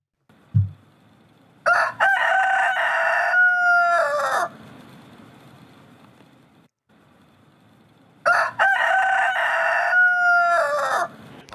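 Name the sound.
rooster crowing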